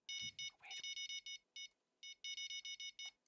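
Bite alarm in the Fishing Planet video game, a rapid series of sharp electronic beeps in short bursts with brief gaps, fairly close and clear over quiet background.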